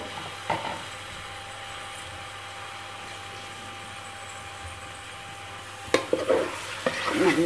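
Chicken with yogurt, chili powder, turmeric and salt is stirred as it fries in oil for Thalapakettu biryani. A steady sizzle runs throughout, with brief scraping stirs near the start and in the last seconds.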